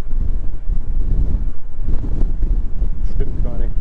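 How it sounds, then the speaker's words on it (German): Strong, gusty outdoor wind buffets the microphone in a loud, continuous low roar that swells and dips with each gust. "Der Wind, wie ihr seht, echt frisch."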